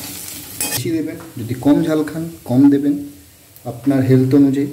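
Spice masala fries in oil in a pan over a low flame and gets stirred, with scraping and sizzling bursts under a woman's steady speech.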